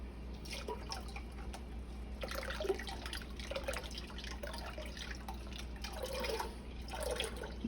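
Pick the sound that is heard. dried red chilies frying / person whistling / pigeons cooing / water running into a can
water running into a can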